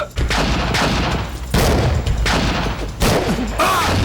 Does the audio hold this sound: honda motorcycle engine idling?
no